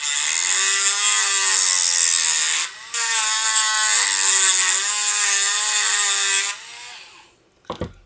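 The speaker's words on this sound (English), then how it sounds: "We need to sand this one down. And the Thor, of course, is giving us trouble. Sand this baby down." A small rotary power tool sands down a Marvel Legends action figure part, a high, steady whine running for several seconds, briefly pausing, then resuming before shutting off, followed by a couple of light clicks.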